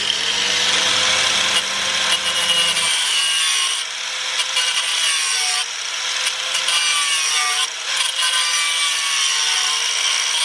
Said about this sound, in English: Gonna have to go ahead and try and use a grinder to break this clamp off.